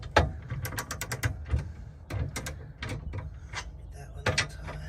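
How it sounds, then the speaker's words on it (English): A wrench ratchets on Andersen Ultimate fifth wheel hitch bolts in a series of quick metallic clicking bursts with short pauses between strokes, close and moderately loud. "Torque it down all the way until I start doing my sides."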